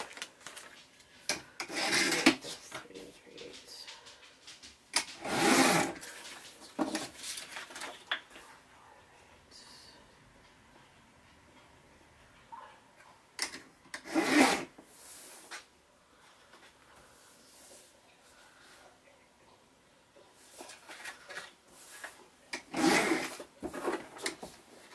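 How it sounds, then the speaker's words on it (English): Paper being trimmed for a Stamperia music-themed mini album, heard as several loud, brief bursts of cutting or slicing separated by quieter stretches of faint handling noise. "To trim it down a little bit to get the images that I want."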